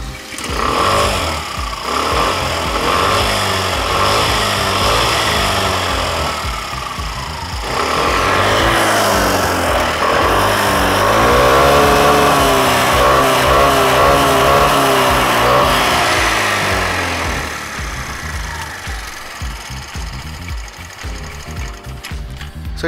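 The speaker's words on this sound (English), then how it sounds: "we are sure that you want to hear the exhaust note" An Aprilia SR 125 scooter's single-cylinder engine revs through its exhaust, a loud, steady, buzzing drone held close by that swells and rises in pitch mid-way, then drops back toward idle.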